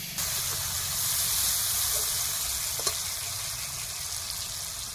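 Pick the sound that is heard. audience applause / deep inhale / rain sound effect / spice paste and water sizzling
spice paste and water sizzling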